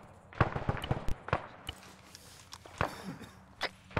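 Gunfire in the video game ArmA 3 as rounds are pumped into a hostile inside a building: several sharp, scattered shots and impacts at moderate distance, spaced irregularly over quiet background.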